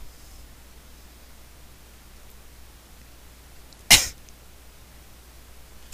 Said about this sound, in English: Goddamn this cough! Still have it!